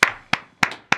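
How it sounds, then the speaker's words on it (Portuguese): Four sharp, evenly spaced hand claps, loud and close, each ringing briefly before the next. "Salva de palmas, salva de palmas."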